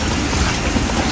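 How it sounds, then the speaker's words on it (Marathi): Floodwater rushes strongly across a road past a speed breaker in Panvel during rain, where a lake has filled and overflowed; a steady, loud, broadband roar of flowing water with wind-like noise continues throughout, without speech. "पाण्याला एवढा फ्लो असा का झालाय खाली?"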